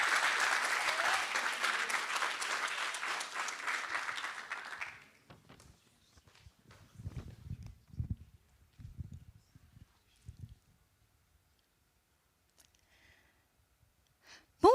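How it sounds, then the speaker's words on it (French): A staged academic speaking contest audience claps loudly for about five seconds, then the applause stops abruptly, leaving scattered footsteps and small thumps on a quiet stage. "Merci de l'applaudir"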